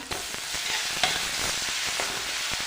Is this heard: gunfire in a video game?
no